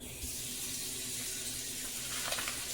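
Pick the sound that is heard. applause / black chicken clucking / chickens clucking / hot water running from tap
hot water running from tap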